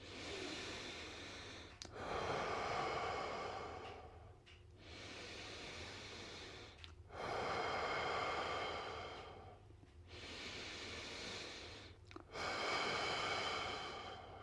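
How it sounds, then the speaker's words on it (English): Slow, steady breathing during a trapezius muscle exercise, with about three long airy breath cycles separated by brief pauses, close and quiet with no talking. "Normal breathing for 12 seconds."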